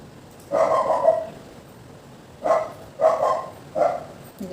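A neighbour's dog barks five times at a middle distance. One early bark is followed by a pause, then a quicker series of barks. A faint room background sits underneath.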